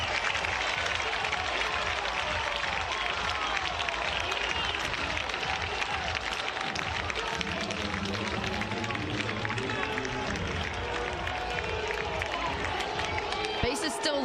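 A college baseball stadium crowd at an NC State versus South Carolina game roars steadily and cheers as a run scores on a bases-loaded walk, a dense continuous wall of noise with commentators talking over it.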